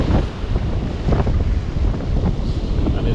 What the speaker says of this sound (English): the wind has now come up